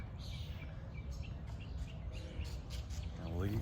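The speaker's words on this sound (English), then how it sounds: "I just had two birds like flying at me" Birds chirp outside a house on Neely Street with a backyard: a few scattered, high, thin tweets over steady outdoor background noise, moderately close, with no clear speech.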